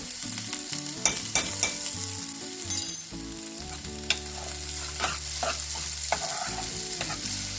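Spices, chili powder and sugar fry in a pan with a continuous close sizzle, broken by sharp spoon knocks and scrapes as the mix is stirred, while a tonal hum runs underneath.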